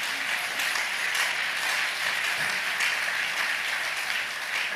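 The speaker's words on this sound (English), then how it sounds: "if you want to clap, you clap" Church audience applauding during a thanksgiving service, a dense, steady wash of many hands clapping at once, sustained and even in level throughout with no voices on top.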